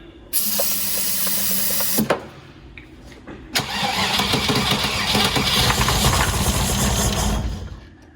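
Starter fluid hisses from a spray can twice, then an engine cranks and catches, running loudly and roughly for several seconds before cutting out.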